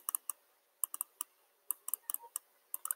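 Computer mouse clicks in quick pairs and singles, sharp and close, scattered across a quiet background like double-clicks at a desk.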